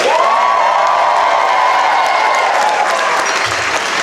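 Loud, close applause from a New York comedy club audience for comedian Tina Frimmel, thick clapping mixed with cheers and whoops that carries on steadily and tapers slightly at the end.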